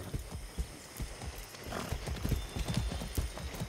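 A horse's hooves clip-clop in a steady gallop across open ground in Far Cry 6, fairly close and continuous, with a faint voice low in the background.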